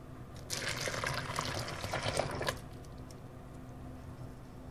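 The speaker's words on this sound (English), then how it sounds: "Pour the hot mixture over the bowl of white chocolate and stir." A hot mixture pours steadily into a bowl of white chocolate for a couple of seconds, then stops, leaving a quiet background hum.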